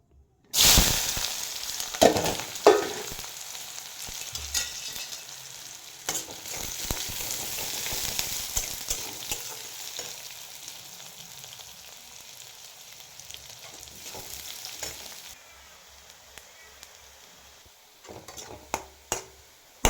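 Onions drop into hot oil in a kadai and burst into a loud, close sizzle that slowly settles into a softer, even frying hiss, with occasional stirring scrapes and pan knocks.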